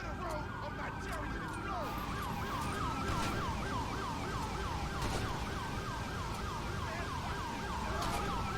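A police siren in the video game GTA V wails continuously in fast repeating yelp cycles, steady and moderately loud over road and engine noise.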